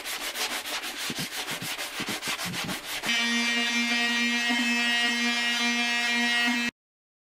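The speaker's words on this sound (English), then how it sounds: "I'm sitting here and I'm like rubbing on photos with sandpaper as a joke" Sandpaper rubbed back and forth over a photo print in quick, even strokes, close and steady, then giving way to a sustained tonal hum before cutting off.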